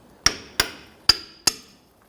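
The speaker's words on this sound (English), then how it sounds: "We're going to go ahead and just use our hammer." Four sharp metallic hammer taps on a steel sway bar bushing bracket of a Nissan Frontier pickup ring out at an uneven pace, each with a brief ringing decay, close and clear with no talking.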